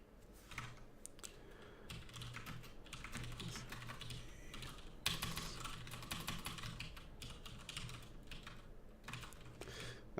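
Typing on a computer keyboard during a stream about writing commands for a Minecraft escape room. Quick clusters of soft key clicks come in bursts with short pauses, close to the microphone and fairly quiet, with no talking.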